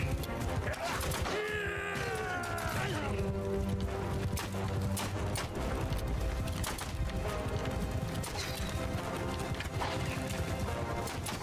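Hooves clip-clop rapidly as horses gallop in a Game of Thrones mod battle of Mount & Blade II: Bannerlord, with horse whinnies and crashing combat sounds mixed in under faint voices.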